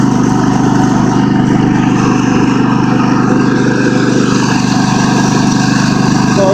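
A Craftsman ProSeries garden tractor engine runs at a steady loud drone while the tractor drives along, an unbroken close mechanical hum with no talk.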